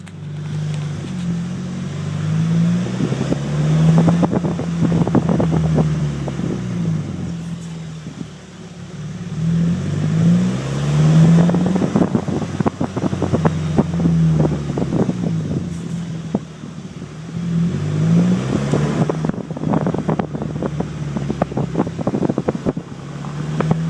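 A car with a custom muffler-delete exhaust accelerates through speed bumps, its loud raspy exhaust note rising and falling in three surges, heard from outside the window with wind buffeting the microphone.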